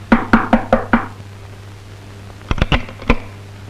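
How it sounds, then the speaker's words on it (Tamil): Knocking on a wooden window shutter at night, five quick evenly spaced raps, a pause, then another cluster of four sharper knocks, close and distinct over a faint hum. "யாரு ராத்திரி வேலை ஜன்னல் கதவை தட்டுறது?"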